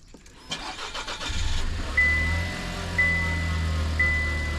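A car engine starts and settles into a steady low idle nearby, with a few faint beeps repeating about once a second. No one speaks.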